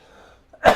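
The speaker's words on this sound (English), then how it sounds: "I've been fighting this cough for fucking a month" A single short cough bursts out close up near the end, loud against an otherwise quiet room with only faint murmur before it.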